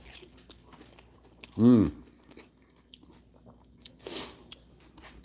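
A grilled cheese sandwich gets one loud, close crunchy bite, followed by soft, quiet chewing and a brief murmur of appreciation.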